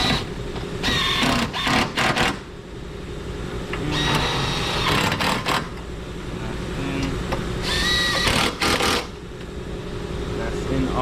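A power tool driving screws during a GMC Terrain battery replacement, several loud whirring bursts of a few seconds each separated by pauses and handling clatter, close by.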